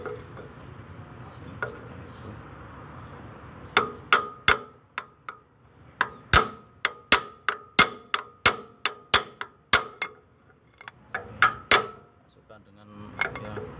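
A new freeze plug is driven into an engine block with an iron pipe as a drift: a long run of sharp metallic hammer strikes, some steady and evenly spaced and others in quick bursts, ringing close with short pauses between.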